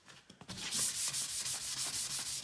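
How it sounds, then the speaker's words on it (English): Sandpaper rubs over the details of a wooden furniture piece to distress its finish, a rhythmic series of quick back-and-forth scrubbing strokes, close and steady, with no talking. "I might go a little bit more aggressive with the sanding on these details."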